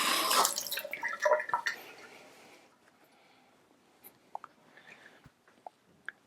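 Water from a tap briefly splashes over the rear foot of a Sette grinder, a loud burst at first that fades, followed by a few sparse drips and small knocks.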